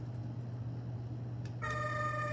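Carrera Digital toy ambulance with its electronic siren switching on partway through, a steady bright tone that starts abruptly over low background hum and keeps sounding to the end.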